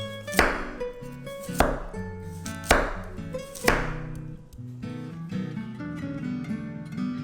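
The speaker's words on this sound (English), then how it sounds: "Slice up 1 carrot" A knife chops through a carrot on a cutting board, four crisp, evenly spaced cuts ringing out close and clear, followed by softer kitchen sounds with music underneath.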